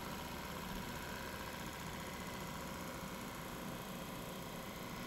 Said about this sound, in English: This drum sander is the Laguna